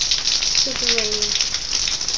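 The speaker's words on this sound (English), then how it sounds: "It's been raining since like 10 o'clock." Steady rain falls outdoors near a waterfall as a continuous hiss of drops, with a brief high voice sounding over it midway.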